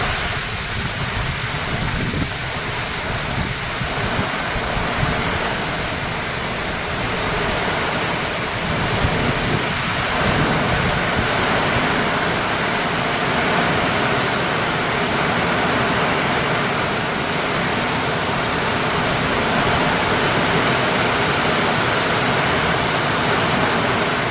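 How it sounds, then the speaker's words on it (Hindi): Heavy cyclone rain in Kerala, India pours down in a dense, roaring wash with strong storm wind, continuous and loud throughout, no voices. "मंडे को यहाँ पे इतनी ज़ोर से साइक्लोन आया था, तूफ़ान आया था बहुत ज़ोर से"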